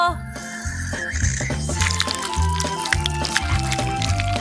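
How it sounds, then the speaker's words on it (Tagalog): Syrup is poured over a dish, making a wet, gurgling trickle with a few squishy drips under a musical background. "ibubuhos ko ang syrup sa buong ito."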